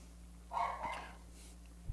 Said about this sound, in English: there's my dog going nuts downstairs